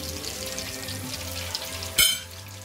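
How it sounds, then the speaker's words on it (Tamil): Chicken 65 fries in oil over a medium flame with a steady crackling sizzle. Near the end comes a brief louder clatter or splash, and there is no talking. "நீங்க மீடியம் ஃப்ளேம்ல நீங்க வச்சு ஃப்ரை பண்ணுங்க"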